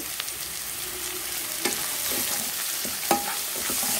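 Vegetables and capsicum for egg Hakka noodles sizzle steadily in a hot pan, with a few sharp clinks and scrapes from stirring over the continuous frying hiss.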